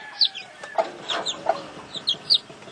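A hen with newly hatched chicks clucks in a dark coop, several short close clucks spaced irregularly, with thin high peeps in between.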